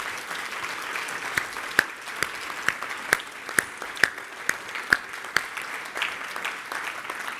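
An audience at an IEEE security conference awards ceremony applauds the awardees coming up to the stage, a steady patter of many hands with a few sharper, closer claps standing out at regular intervals, fairly subdued overall.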